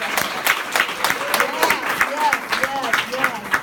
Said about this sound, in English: I just want to applaud you